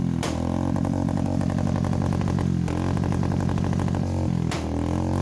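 A loud Bullet motorcycle engine thumps close by in a steady, rapid beat, with the revs rising and easing through several cycles and nothing else heard over it.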